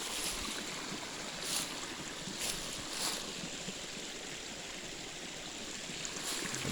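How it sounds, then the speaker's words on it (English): Fast-rushing stream water on a nature hike, a dense, continuous broadband roar of churning water, close and steady, with a few brief splashy surges. "the water's rushing like fast today"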